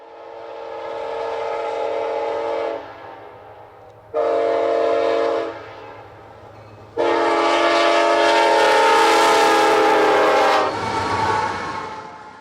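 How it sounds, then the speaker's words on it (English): CPKC daily manifest freight train M266 sounds its horn as it passes eastbound on the Meridian Speedway. Loud, sustained horn blasts come in several bursts over the rumble of the passing train. "Daily Manifest Train M266 has a clear signal at milepost 115 to race eastbound to Artesia"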